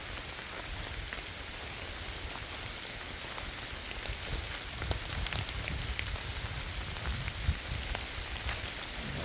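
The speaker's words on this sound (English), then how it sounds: "it's just the only one that's starting to rain pretty good bit out here." Steady rain falls outdoors at a possible old Indian graveyard, a constant dense patter of drops on surfaces that swells slightly louder in the second half, with no voices.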